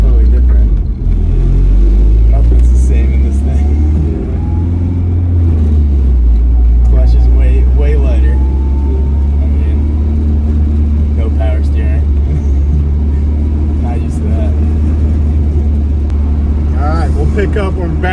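A turbocharged Honda Civic EK coupe with a roughly 23-year-old engine drives with a loud, steady engine rumble and revving throughout, heard from inside the car with voices talking over it.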